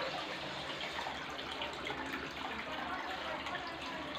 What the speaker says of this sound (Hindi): आप देख सकते हैं पानी भर रहा है।